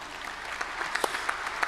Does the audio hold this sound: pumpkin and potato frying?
no